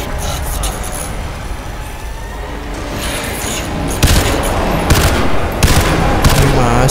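Rapid gunfire bursts from the video game Crysis 2 Remastered, a sustained fusillade of shots with louder booming hits near the end, heard under a player talking.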